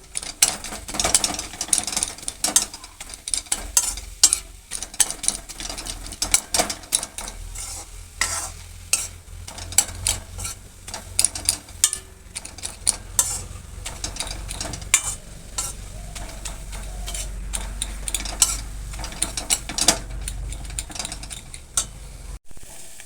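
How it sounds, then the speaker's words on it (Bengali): A metal ladle mashes boiled taro greens in a pot, giving a steady run of scraping, clacking strokes with soft wet squelches and a low simmer beneath, close and fairly quiet with no talking. "আমি এখন অল্প হাতা দিয়ে এইভাবে থেতো করে নিচ্ছি।"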